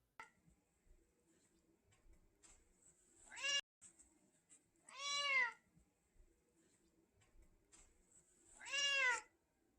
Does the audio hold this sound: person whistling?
no